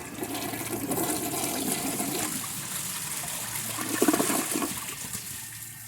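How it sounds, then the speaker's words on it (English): A 2008 Mansfield Alto toilet flushes while starved of water, giving a close, steady rush of water that tails off early and weakly into a thin trickle and refill hiss, with no voices. "So I'm going to give it a flush so you guys can see how it is."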